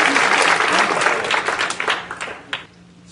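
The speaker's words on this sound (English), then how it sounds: "A round of applause." An audience at a cooking show gives a round of applause, a dense burst of clapping that thins into a few scattered claps and fades out within about three seconds.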